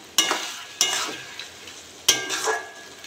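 Fish pieces added to hot oil in a pan for a Bengali lote fish chochori, three sharp hiss bursts each tailing into a steady close sizzle, with light stirring scrapes between; no voices.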